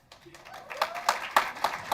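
Scattered applause from the audience at a school board business meeting, a sparse cluster of claps building slightly over two seconds, moderately distant, with a brief faint voice near the start.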